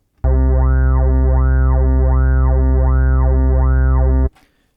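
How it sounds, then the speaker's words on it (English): A buzzy Massive synthesizer wavetable tone holds for about four seconds while a sine LFO sweeps the filter smoothly up and down in steady, regular waves, then cuts off abruptly. "It sweeps like a sine wave would."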